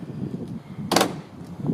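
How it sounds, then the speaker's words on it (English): Single car door closing on a 1934 Hudson Terraplane Victoria, one short soft thud with a brief latch click, close by amid quiet background. "Doors close nice and easy."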